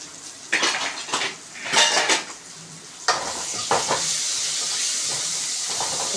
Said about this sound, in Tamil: கரண்டி வச்சு நல்லா மிக்ஸ் பண்ணி விட்டுக்கோங்க.